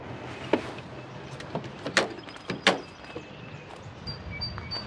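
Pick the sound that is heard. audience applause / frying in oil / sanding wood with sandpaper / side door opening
side door opening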